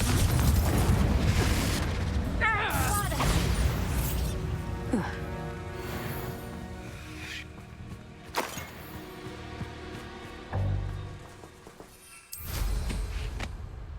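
The Confringo fire spell goes off in Hogwarts Legacy, a loud booming burst with crackling debris, followed by lingering magical shimmer, other impacts and a later thud amid game effects.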